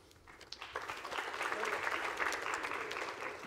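An audience applauds at a school prize day ceremony, a soft rise into a steady wash of clapping that holds and then eases, heard from some distance in a large hall.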